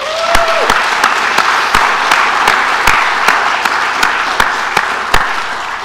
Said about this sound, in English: let's give ourselves a quick round of applause